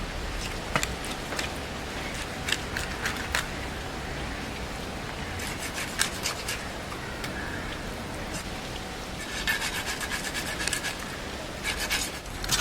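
A knife cuts through deboned tuna flesh on a board as the meat is prepared for fish pickle; steady soft rasping and scraping runs throughout, with brief sharper strokes now and then and no talking.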